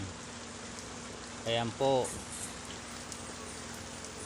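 Steady rain falls after a whole night of downpour, a continuous even hiss that fills the clip, with a man's brief speech cutting in near the middle.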